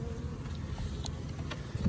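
Steady insect buzzing, a low continuous drone of honeybees from a small swarm being installed in a new hive, flying close by, with faint scattered clicks and rustles over the hum.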